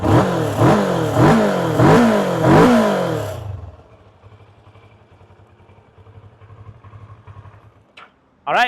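A 2012 Kawasaki ER-6n motorcycle revs hard four times in quick rising-and-falling bursts, then settles into a quiet, steady idle before a brief blip at the end.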